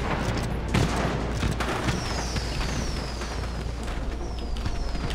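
A laser gun fires repeatedly in Far Cry 3 Blood Dragon, producing a dense, continuous volley of shots with faint descending zaps over a rumbling backdrop.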